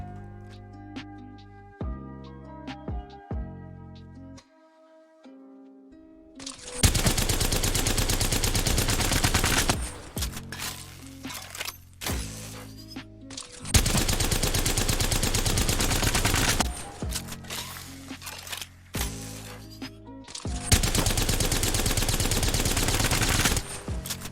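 Havoc rifle from the Apex Legends video game fires in three long sustained automatic bursts of a few seconds each, loud and close, with quieter in-game sounds between the bursts.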